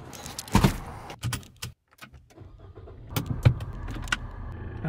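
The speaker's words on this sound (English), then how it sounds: "I also just realized I just recorded that entire sequence getting into the car." Getting into a car before a drive to Dolly Sods Wilderness Area: keys jangle, a door thuds shut, then soft interior shuffling and clicks, close by with no talking.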